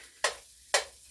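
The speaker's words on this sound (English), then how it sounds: "I'm just getting this in my pan to warm up a little bit" Cooked taco meat being stirred in a pan as it warms, two sharp scraping sizzles about half a second apart over a low steady hiss, close and fairly loud.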